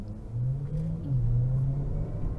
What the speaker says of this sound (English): It's a nice Z06 there.